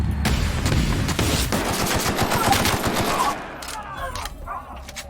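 Rapid bursts of gunfire ring out while fighting bandits in The Outer Worlds, dense and loud for about three seconds, then thinning into scattered, fainter shots and echoes.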